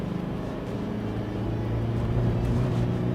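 Tata Hexa SUV engine pulling hard under acceleration toward 4,500 RPM, a steady, loud droning hum with road and wind noise, rising slightly in strength over a few seconds.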